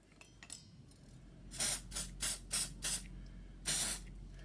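Silicone spray hits Bugaboo Fox stroller brake parts in a quick series of five short close bursts, then one slightly longer hiss after a pause, with near-silence between them.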